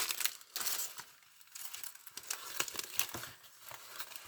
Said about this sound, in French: Alors, on va le déballer.